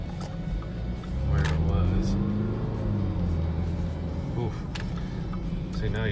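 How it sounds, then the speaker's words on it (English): Jaguar F-Pace 2.0d diesel with RaceChip tuning, its engine revving up under a tap of the accelerator, a low rising rumble heard from inside the cabin, with someone talking over it. "now you just tap the accelerator and you can feel a lot more power coming out of the car"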